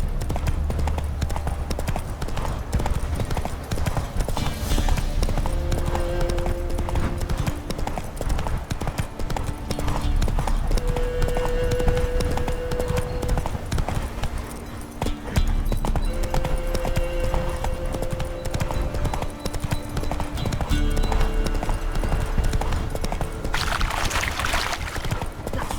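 Roach the horse's hoofbeats in The Witcher 3 form a steady, close clip-clop that runs throughout, under game music and ambient sound.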